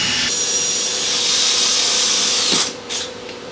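Power drill boring a rivet-nut hole into the metal A-pillar of a Land Rover LR3, a steady loud high whine running for about two and a half seconds before cutting off, followed by a brief second burst.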